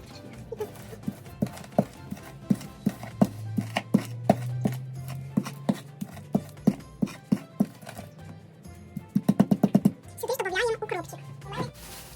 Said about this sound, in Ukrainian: А зараз порізану цибулю перетримо сіллю і так само зелень укропа